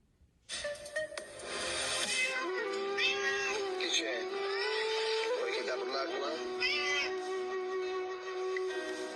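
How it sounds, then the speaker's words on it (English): A small stray kitten rescued by a driver meows repeatedly, loud and close, with high, wavering cries running almost continuously after a brief quieter start. "He stopped to save this little kitten."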